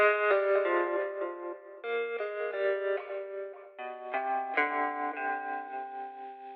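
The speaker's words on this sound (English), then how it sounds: "It's the same jazz guitar with some slight tweaks to the tone" A clean jazz guitar from a Logic Pro X factory library instrument picks a melodic line of sustained notes and chords, warm and smooth, playing alone.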